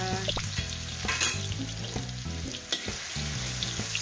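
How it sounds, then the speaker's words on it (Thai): Garlic stir-frying in hot oil for a Thai celery and fish dish, a loud close sizzle with clattering stirring strokes and scraping, no talking. "ผัดกระเทียมให้หอมก่อนนะคะ"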